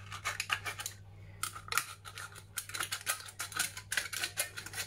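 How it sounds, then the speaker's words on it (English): Scissors cut a tin can to shorten it in a rapid series of close, crisp metallic snips and crunches over a steady low hum. "I'm going to cut this down a little bit shorter"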